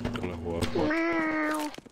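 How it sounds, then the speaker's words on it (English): A cat meows in the video game CS:GO, one drawn-out, rising-then-falling meow right after a man's brief speech, fairly loud and close. "That was a cat."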